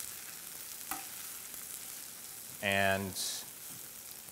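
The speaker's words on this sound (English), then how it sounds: "we want to saute our cabbage here so the onions don't get too brown or burnt" Cabbage and onions sautéing in a pan, a soft steady sizzle underneath brief speech and a short clunk.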